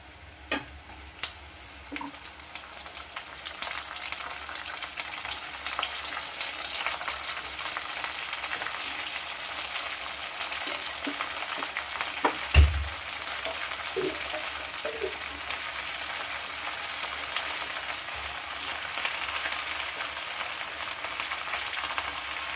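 Okra sizzles in a pan with sautéed onions for a coconut stir-fry, a continuous frying hiss broken by occasional spatula scrapes and clanks, one louder knock midway.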